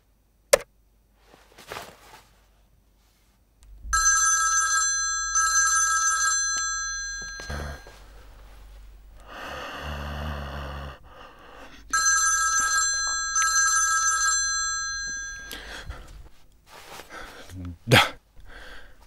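A phone call ringing tone heard over speakerphone, with four repeated electronic ring bursts in two pairs separated by a pause, with people talking nearby before and between the rings.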